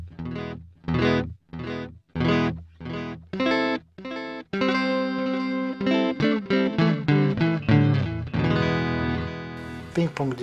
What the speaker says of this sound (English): And that's a ping pong delay